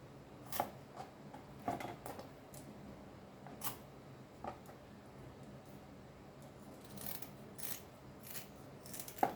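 Knife cutting a pomfret fish on a board, a series of short sharp scraping clicks and crunches at irregular intervals, fairly quiet with a faint background hum and no talk.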